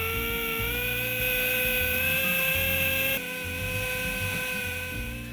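An Orbit valve grinding and lapping machine runs continuously, giving a steady high whine over a low mechanical rumble, close and fairly loud with no speech.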